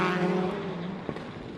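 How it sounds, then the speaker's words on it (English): Rallycross car engines at the Red Bull Global RallyCross round in Charlotte drone and rise in pitch together at the start line, a loud, steady, close engine roar with a brief knock near the end. "So you hear those engines spooling up, getting ready to launch."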